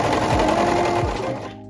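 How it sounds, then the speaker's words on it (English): Serger or sewing machine running a zigzag stitch along the seams of homemade shorts, a fast steady mechanical whir close by that slows and stops at the end. "take your serger or sewing machine on a zigzag stitch, whichever you got, and you are going to sew this arch"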